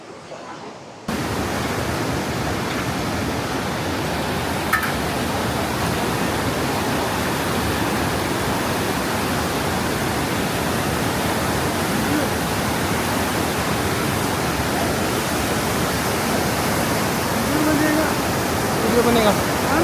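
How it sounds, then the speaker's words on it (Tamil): A river rushes powerfully at the India–Nepal border near Darchula, giving a constant loud roar of water that starts suddenly and holds steady throughout. "அந்த தண்ணியோட ஃபோர்ஸ் பாருங்களேன்."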